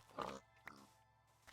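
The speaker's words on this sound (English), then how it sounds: "Let's kill pigs." A pig in Minecraft Beta 1.7.3 gives a faint, brief oink, a single short grunt followed by a softer second snort, quiet and alone.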